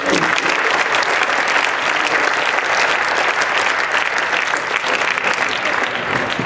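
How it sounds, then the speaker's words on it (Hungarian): Applause at a Christmas party honoring the groundskeepers: a steady, dense clapping from a crowd that holds at full strength without pause from start to finish. "Egy nagy tapsot kérünk neki."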